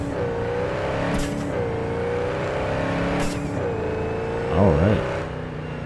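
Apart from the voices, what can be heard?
car engine driving in video game Cyberpunk 2077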